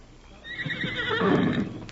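A horse gives a long, loud whinny in a 1938 Lone Ranger radio drama, rising and then trailing off over about two seconds, with no talk over it.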